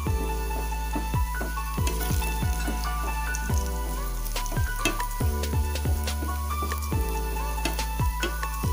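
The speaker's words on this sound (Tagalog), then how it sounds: "Haluin lang hanggang sa pumula ang bawang." Garlic sizzles and crackles steadily in a frying pan while being stirred, with spatula scrapes and taps recurring over a dense, continuous fry.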